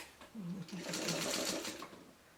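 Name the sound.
sewing machine sewing a quilt block seam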